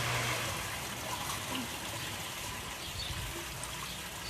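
Water draining and sinking back down inside a flotation machine just after it is switched off, a steady broadband trickling and gushing wash that stays fairly constant and close throughout.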